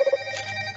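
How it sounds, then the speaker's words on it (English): A telephone rings with a steady electronic tone pulsing in short bursts at first, then continuing under a brighter, busier wash of sound for under a second. "I gotta answer this phone now."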